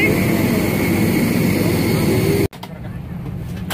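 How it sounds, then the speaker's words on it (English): Airliner cabin with a loud, steady broadband engine roar at the start of a flight, cutting off abruptly partway through and returning more quietly afterward. "Airplane time."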